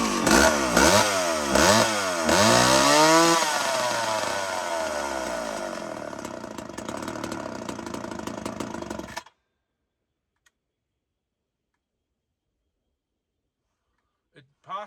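A McCulloch SP60 chainsaw engine, flooded, runs loud and close with uneven revving for about nine seconds, then cuts out into near silence, with a brief faint noise near the end.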